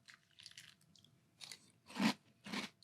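Malt-o-Meal Key Lime Pie Crunch cereal is chewed in milk, close to the mic; soft wet crunches build into three louder, crisp bites, spaced about half a second apart.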